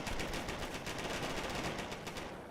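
An MG42 machine gun in Company of Heroes fires a dense, rapid stream of shots over the battlefield din, loud and sustained for the whole moment.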